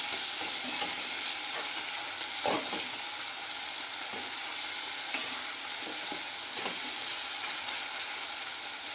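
Tomatoes frying in oil over low heat for a cashew masala, a steady close sizzle with occasional scraping stirs of a spoon through the pan and no voices.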